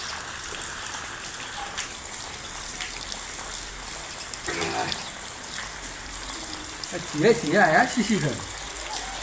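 Monsoon rain pours in a constant broadband hiss and patter while people talk close by, their voices rising over the rain toward the end.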